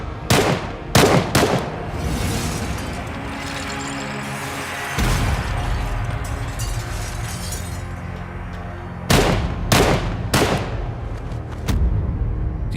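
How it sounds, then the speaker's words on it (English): Four gunmen open fire in a sudden dramatized burst of loud, close gunshots with shattering impacts: rapid volleys at the start, a rumbling lull, then another burst of shots near the end. "Without warning, 4 gunmen burst in and begin shooting."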